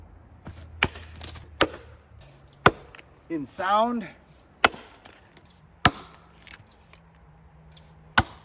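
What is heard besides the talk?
axe chopping wood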